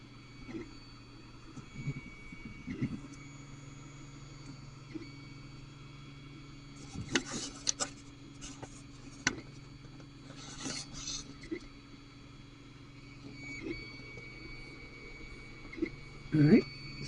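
An Ender 3 3D printer lays down PLA with a quiet, steady motor hum broken by short whirring stepper moves and scattered clicks, heard up close in a calm room.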